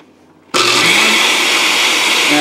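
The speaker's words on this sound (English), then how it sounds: "make sure you put the lid on the blender" Close, loud blender switches on after a half-second of quiet and runs steadily, whirring as it dissolves orange dye tablets in water with the lid on.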